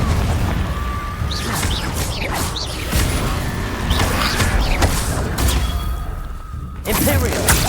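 The Confringo spell cast in the video game Hogwarts Legacy, heard as a series of whooshing blasts, thuds and crackling hits in a busy fight, with game voices and speech mixed in.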